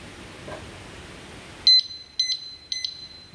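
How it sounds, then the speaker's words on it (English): A motorcycle disc lock alarm gives three sharp electronic warning beeps, each a quick double pulse, sounding clearly and loudly after a stretch of low hiss. "Those are the three warning beeps"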